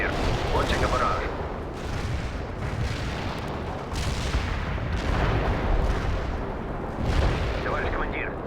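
Artillery rounds pound a target in the strategy game World in Conflict, rolling heavy explosions and thuds in an unbroken wall of battle noise, with periodic louder impacts and muffled voices underneath.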